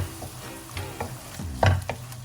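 Vegetables sautéed in a pan for Italian-style veg pasta, close irregular stirring scrapes and clatters over a low sizzle, with one louder knock near the end.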